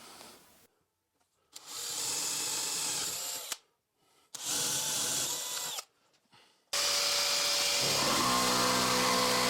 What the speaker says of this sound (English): let me drill a couple of holes in there